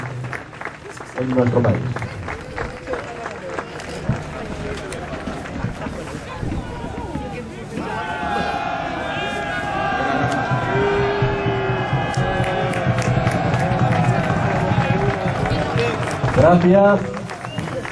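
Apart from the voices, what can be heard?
audience applauding a historical reenactment of Almansa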